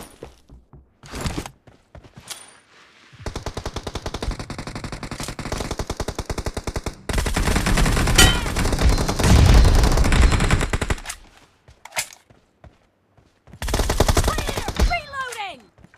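Video game gunfire comes in bursts: rapid machine-gun volleys and single sharp shots, loud and close, separated by short silences and short in-game voice callouts.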